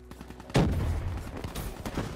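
Argus shotgun fire in the video game Call of Duty: Black Ops 3: one sharp, loud blast followed by a couple of lighter shots amid busy in-game noise.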